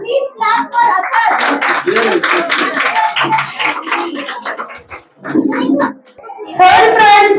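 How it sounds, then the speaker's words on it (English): Parents clap for a child in costume at a kindergarten fancy dress competition, a burst of hand claps mixed with children's voices and chatter, swelling again loudly near the end. "Parents, please clap for Arthur."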